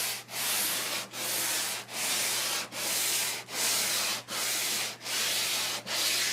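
Wood being hand sanded with sandpaper to remove 80-grit scratches during furniture refinishing: steady back-and-forth rubbing strokes in a regular rhythm, about nine passes, close and clear with no talking.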